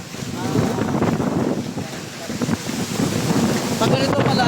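Strong outdoor wind buffets the microphone in heavy, gusting rumbles, loud and continuous, with a person speaking intermittently underneath.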